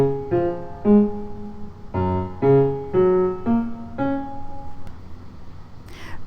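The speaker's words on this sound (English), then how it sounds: "take your sheet music over to your piano keyboard and just play the left hand melody" A simple left-hand piano melody from a beginner lesson, played alone as a short run of about seven single notes, each struck clearly and left to ring and decay at a gentle, unhurried pace.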